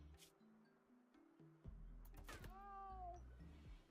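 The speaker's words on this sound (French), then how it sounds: "Qui miaule comme un chat." An arctic lion in the RimWorld video game gives a rising, wavering cat-like meow over soft game music and clicks, fairly faint and brief.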